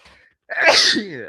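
A single loud sneeze bursts out after a brief quiet moment, close to the microphone, during a casual football podcast chat.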